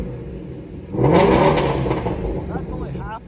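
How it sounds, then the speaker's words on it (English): A 2020 Shelby GT350 Heritage Edition with a 526 hp 5.2L flat-plane crank Voodoo V8 and six-speed manual revs once to about 4,000 RPM. After a quiet idle, a loud, rising snarl peaks and then settles back down. "and we'll give it a few revs."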